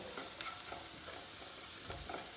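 Onions frying with salt in a pan for a mixed vegetable curry: a faint, steady hiss of sizzling oil with occasional soft scrapes of stirring, quiet and close, no voices.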